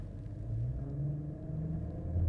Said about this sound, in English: So I'm accelerating and holding the brake and you can hear it and you can feel that vibration.